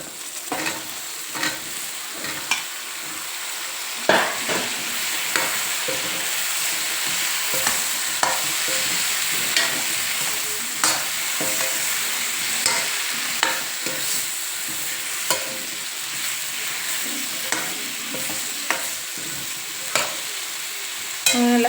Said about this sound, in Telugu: స్టవ్ సిమ్లో పెట్టుకొని నూనెలో ఒక 2-3 నిమిషాలు వేగనియాలి వంకాయ ముక్కలు